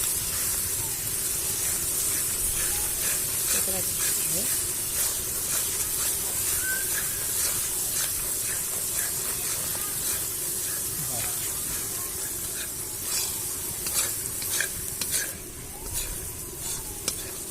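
Turmeric powder stirred into onion and ginger frying in oil gives a loud, continuous sizzle and hiss, with repeated scraping strokes of a spoon against the pan, and a voice talks briefly over it.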